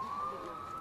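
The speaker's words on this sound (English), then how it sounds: "that sounds like a police car with a siren on" A police car siren wailing in the distance near a junior baseball field, a thin, steady high tone that rises slightly in pitch, faint over the outdoor background.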